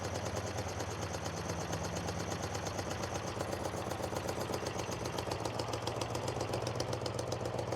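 A Honda motorcycle, left sitting 22 years and just given a carburetor rebuild, idles low and a little rough, a steady close putter of rapid even pulses that carries on without a break and with no talk.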